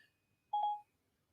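A single short two-tone electronic chime from an iPhone as Siri activates, clear and close in otherwise quiet surroundings, no talk.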